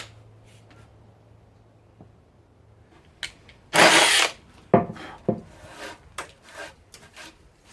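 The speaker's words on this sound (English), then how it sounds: "get this and start drilling" A power drill bores through a wooden pole wrapped in painter's tape for a bookshelf build, with a loud whirring burst followed by shorter scraping, rasping pulses and handling noises.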